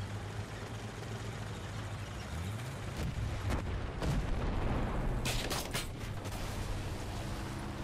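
Aircraft strafing a ground position in War Thunder, with a steady roar and a cluster of sharp bursts of gunfire in the middle, loud over a low rumble.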